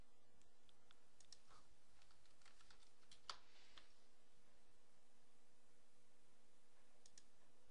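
Computer keyboard typing during a device search in network management software: scattered quiet key clicks in short irregular bursts, close but faint, over a low steady hum.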